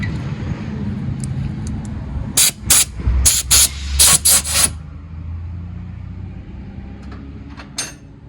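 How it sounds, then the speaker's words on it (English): Air gun blasting dust out of the knife sockets on a Bandit XP65 wood chipper, a run of sharp, loud hissing bursts in quick succession, then a few fainter short puffs. "I'll blow them out with the air gun"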